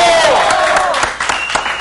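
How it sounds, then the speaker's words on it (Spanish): A live audience at a Peruvian music show breaks into brief, loud clapping and crowd noise as a host calls for it, with his voice sounding over the start. "¡Aplausos!"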